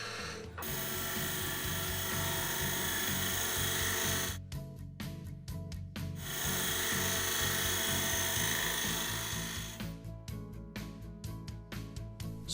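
Wood lathe spins a bowl or spindle while a detail point cutter trims fine detail: a steady, high whirring drone with cutting noise that drops out briefly twice, close and loud with no voices.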